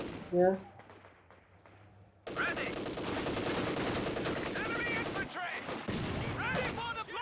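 Video game battle with a grenade explosion and rapid automatic gunfire, dense bursts of shots that start abruptly and continue loudly. Game voice lines and speech come before the firing.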